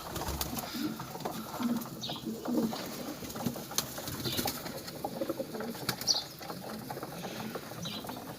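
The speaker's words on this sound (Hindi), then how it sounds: "तो माशाल्लाह आप देख सकते सारे कबूतर इनको खाने लग गए।" Pigeons feed at home, soft cooing and occasional wing flutters mixed with faint pecking and patter, quiet and close, with no talk.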